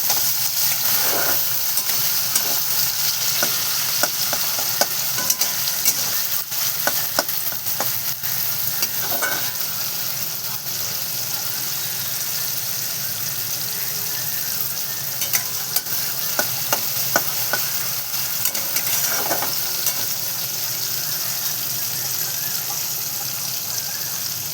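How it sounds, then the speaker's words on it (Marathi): Fenugreek leaves stirred and fried in a pan, with a steady sizzle throughout and repeated scraping strokes of a spoon against the metal, close and fairly loud. "असं छान मिक्स करून घ्यायचं."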